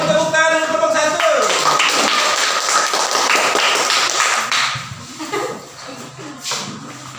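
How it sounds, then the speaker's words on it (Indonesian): Classroom applause for a group of students, a dense, loud clatter of many hands clapping for several seconds before thinning out, while a teacher's voice talks. "Ayo, semua beri tepuk tangan dulu kelompok 1."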